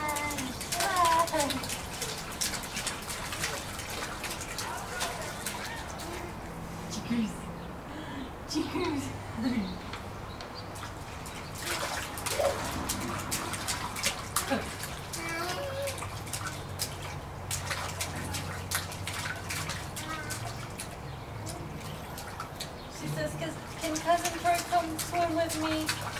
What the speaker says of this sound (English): my two ladies playing in the water, splashing, having fun